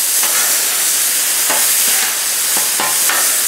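Pepper steak fries on a Blackstone griddle with a loud, constant hiss and sizzle throughout. A few soft scraping taps come through the noise.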